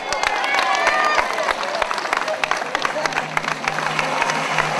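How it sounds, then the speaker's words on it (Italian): Festival crowd at a trout fair applauding a prize winner, steady dense clapping with scattered cheers, moderately loud and continuous, with a voice over a loudspeaker heard through it. "la signora Maria Turba, un bel applauso."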